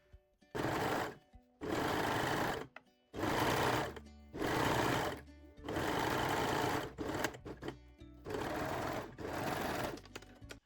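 Sewing machine stitching a seam on jersey panties, seven bursts of rapid, steady stitching, each about a second long, separated by short pauses and quiet handling clicks, close and clear.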